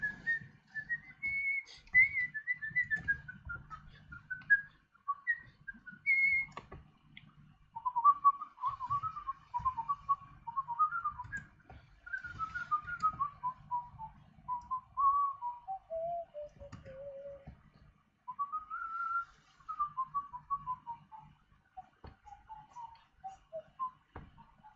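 A person whistles a wandering tune alone, with steady melodic phrases in shifting pitch that pause briefly between lines, over faint clicking noises in the background.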